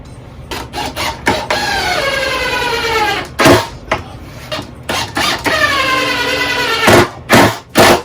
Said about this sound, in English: Drill me a pilot hole.